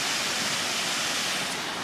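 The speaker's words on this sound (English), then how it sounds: "Waterfall, Chris." Waterfall near Heber, a dense, steady rushing roar of falling water filling the scene, loud and unbroken throughout.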